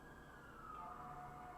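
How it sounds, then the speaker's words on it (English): Police siren wailing through a Chicago neighborhood, a faint steady tone rising slightly in pitch, heard distantly under continuous low city noise with no talking. "Sorry about the sirens."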